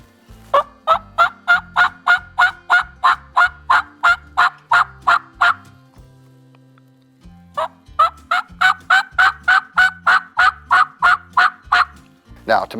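A mouth call imitates a turkey hen's yelps, giving two long even runs of loud, close, raspy notes separated by a pause of a couple of seconds.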